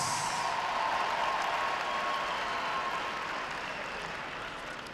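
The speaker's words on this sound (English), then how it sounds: "So let's give them a big round of applause." Sustained applause from an audience at a 2017 tournament closing ceremony, honoring winners New Zealand: a steady, dense wash of clapping that eases slightly toward the end.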